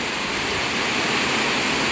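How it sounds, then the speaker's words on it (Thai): Rain falling steadily at a home in Surin, Thailand, heard as a loud, unbroken hiss of dense rainfall close by, with no voices. "ตอนนี้สุรินฝนตกค่ะ"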